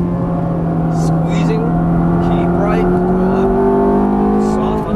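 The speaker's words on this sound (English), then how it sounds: "And the revving engine, yeah." Ferrari F430 on a race track, its engine holding a steady loud drone with rising pitch as it revs through a corner, continuous and close throughout.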